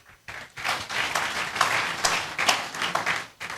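Church congregation clapping during a sermon on tithing, a lively burst of hand claps that swells quickly, holds fairly loud with uneven accents, then drops off.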